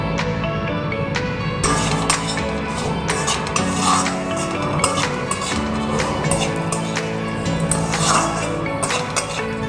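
Moong dal being dry-fried and stirred in a pan, with a spoon scraping and clinking against the metal in repeated, close strokes over low, steady background music.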